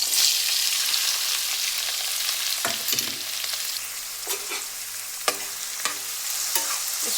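Cauliflower, beans and carrot sizzle and fry in a pan. A spoon stirs them with several sharp scrapes and clicks against the metal over a constant hiss.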